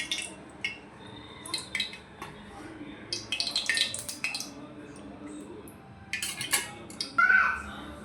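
Metal cookware clanks and scrapes as a kadhai is set down on a lit gas stove, with several sharp knocks, a brief hiss near the end, and faint talk behind.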